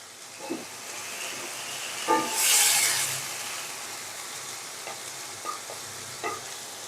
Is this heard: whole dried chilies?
yes